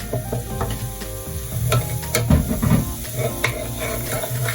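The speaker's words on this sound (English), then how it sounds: "Keep stirring. I like to fry my egusi very well." Egusi fries in a pan with crayfish and red pepper while it is stirred, a constant loud sizzle with scraping and knocking stir strokes throughout.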